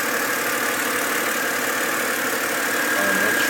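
A BMW E93 engine idles with a steady, continuous mechanical hum and faint ticking, heard close up under an open bonnet, with no voices over it.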